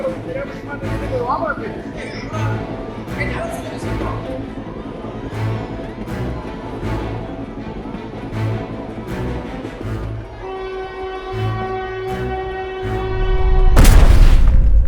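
A train rumbles past with rhythmic clacking and a sustained horn blast near the end, while people shout and talk over it.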